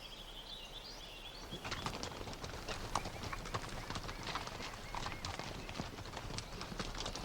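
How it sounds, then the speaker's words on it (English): Horse hooves clip-clopping steadily at a walk while riding across the prairie, close and rhythmic, with birds calling faintly in the open air around them. "And travelling by horse, well, it's a fantastic way to see it."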